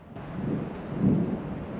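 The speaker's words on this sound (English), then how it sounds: "These are big raindrops." Rain falling with a low rumble of thunder on a pine forest trail in remote Oregon wilderness, a steady soft wash with the rumble swelling near the middle.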